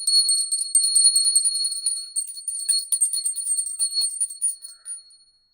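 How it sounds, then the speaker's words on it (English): A small bell is rung repeatedly, a bright tinkling ring that carries on for about five seconds before fading out, heard alone and close by. "I have to ring the bell."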